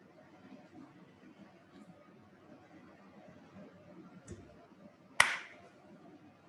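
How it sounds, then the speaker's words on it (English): A single sharp hand clap rings out once, close and loud against a quiet room hum, with a faint tap a second earlier; it is meant to trigger light recognition. "So this will basically recognize whenever I give a clap, it should turn on the lights"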